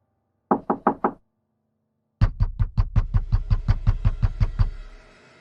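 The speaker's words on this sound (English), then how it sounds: "The knocking came again," Knocks on a wooden door in a horror story: a quick burst of four raps, a pause, then a longer run of about a dozen steady, deliberate knocks, close and loud against silence.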